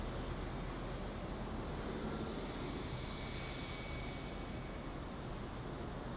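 A Turkish airliner landing on runway 02 at Lisbon Airport, a steady broad engine roar heard from a distance that holds at an even level throughout, with no voices.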